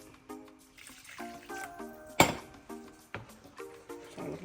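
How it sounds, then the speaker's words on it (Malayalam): Water is poured in splashy bursts into a Kerala-style ginger curry, making faint, close trickling and gurgling sounds with a few light clinks and no talking. "ഇതൊന്നുകൂടെ കുറച്ചും കൂടെ ഞാൻ വെള്ളം ഒഴിക്കാമേ"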